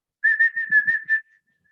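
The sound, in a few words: person whistling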